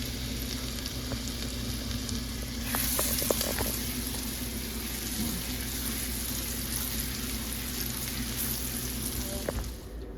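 Garlic frying in a mix of olive oil and butter for shrimp scampi, a steady close sizzle running throughout with a few brief clicks and stirring taps.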